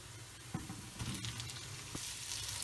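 Sliced onions frying in oil with ginger-garlic, a quiet, continuous sizzle with a few light stirring knocks against the pan, no talking.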